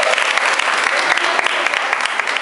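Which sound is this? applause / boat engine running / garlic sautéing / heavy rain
applause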